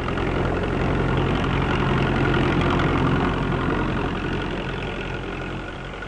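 A farm tractor engine pulling harrows runs with a continuous heavy low rumble and steady vibration, loud and close throughout with no voices, easing slightly toward the end.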